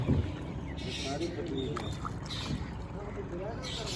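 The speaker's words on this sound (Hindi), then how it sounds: "क्योंकि अजे तक जरा ना इंजन स्टार्ट को नहीं किया चप्पू ही चलान लगे हुए" A boat on water near a bridge construction site in Mirpur, being rowed with oars while its engine stays off, heard as a continuous watery wash and wind noise with someone talking over it.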